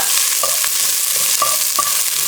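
Crushed ginger and garlic masala stirred in a frying pan, a loud, dense sizzle with a few rhythmic scrapes of the spoon close by, no voices.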